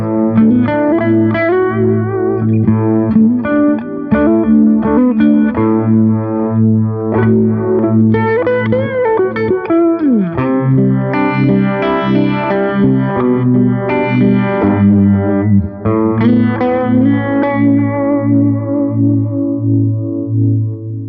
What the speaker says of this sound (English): it's a really subtle modulation pedal